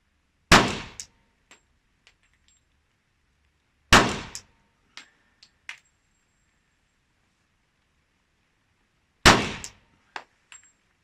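A Glock 32 fires .40 hand loads with 180-grain copper-plated bullets: three loud, separate gunshots a few seconds apart, each followed by small metallic clinks.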